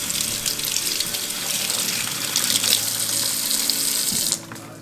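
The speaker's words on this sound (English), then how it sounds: "Wash off all that juice that was left over in the bag." Tap water runs in a steady, loud gush over raw pork in a kitchen sink as the meat is rinsed, then cuts off sharply near the end.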